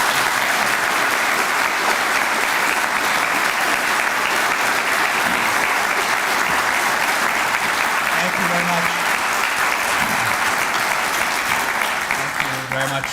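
Sustained, loud applause from a lecture audience welcoming Patrick Kennedy, a steady wash of clapping that holds evenly throughout with a faint murmur of voices beneath.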